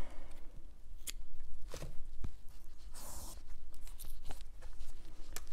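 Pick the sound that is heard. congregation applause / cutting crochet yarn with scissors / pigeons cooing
cutting crochet yarn with scissors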